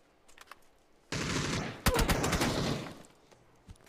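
A machine gun sprays fire in a PUBG match, with a rapid burst of shots lasting under two seconds followed by a few scattered cracks, no voices.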